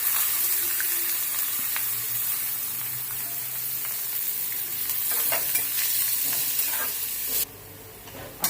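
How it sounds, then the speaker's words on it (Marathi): Cumin seeds and onion sautéing in heated oil for a street-style masala pav, a steady close sizzle with scraping stir strokes throughout, the frying cutting back suddenly near the end. "त्यामध्ये आता आपण थोडे जिरे टाकूया आणि कांदा परतून घेऊया"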